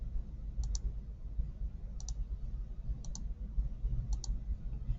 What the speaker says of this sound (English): you might have to click around a couple times and then double click it.